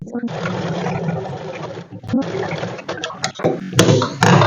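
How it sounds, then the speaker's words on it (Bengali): A sewing machine stitches the right side of a blouse, its close, steady whirring running under a person talking, with a few brief stops near the end. "আমি প্রথমেই আগে সোজা দিকটা সেলাই করে নিচ্ছি"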